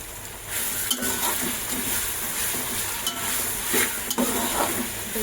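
Onion masala for a prawn biryani sizzles in a hot pan as a spoon stirs it, with steady frying crackle and a few scraping strokes against the metal, close and continuous, with no talking.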